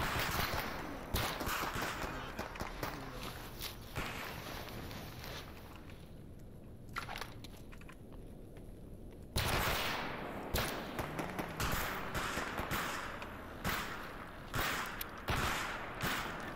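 Enemies fire guns in the game S.T.A.L.K.E.R., a series of sharp gunshot cracks and bursts, some in quick succession, spread over a noisy background with footsteps and movement, fairly faint overall.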